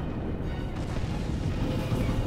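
Spaceship guns fire in the space strategy game Sins of a Solar Empire, heard as a dense, continuous rumbling barrage of booms and blasts.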